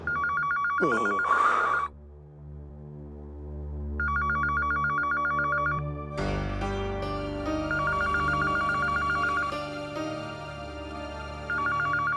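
An electronic telephone rings in a domestic TV drama scene, repeated bursts of warbling ring tone, loud and close, with a short voice sound early on and a swell of background music partway through.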